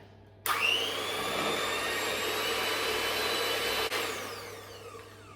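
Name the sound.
whisking gluten-free chocolate cake batter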